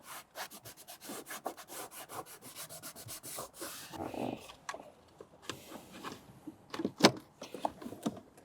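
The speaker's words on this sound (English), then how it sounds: "It's a little dirty, so let's give it a quick wipe." A cloth rubs and wipes over a dirty car amplifier install part, giving quick repeated scrubbing strokes in an irregular rhythm, fairly faint and close, with no talk.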